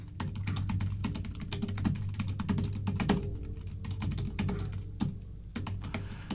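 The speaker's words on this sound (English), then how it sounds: "I've just got to type this into the chat" Fast, uneven typing on a computer keyboard, close by and clear, with dense clusters of key clicks and a few short pauses, alone with no voices.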